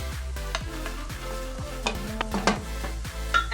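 Scotch bonnet and sweet peppers with onion and scallion sizzling in a pan, a steady frying hiss with repeated scraping and clinking of a utensil stirring against the pan.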